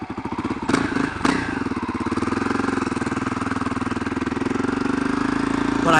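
A 2004 motorcycle starts with a couple of sharp cranking thumps, then settles into a steady, close, rhythmic idle that keeps chugging evenly to the end.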